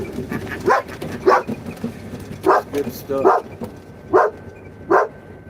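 A dog barks outdoors near a small park in about six sharp, separate bursts spaced a second or so apart, close and loud, while someone talks briefly between the barks.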